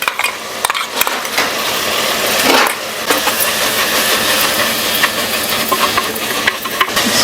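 Ginger garlic paste fries and is stirred in a pan for mutton gravy, a continuous loud sizzle with scraping spoon strokes and occasional metallic clinks.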